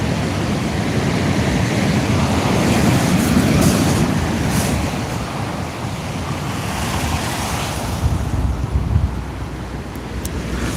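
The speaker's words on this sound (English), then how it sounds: "Wind's dropping a bit." Wind and sea waves wash steadily around a fishing kayak out on the open sea, a constant loud broadband rush with slight swells in intensity and no talking.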